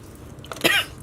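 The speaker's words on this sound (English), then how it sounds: "apparently talking is going to make me start coughing" A single short cough bursts out near the middle, fairly close and clear, with quiet room noise before and after.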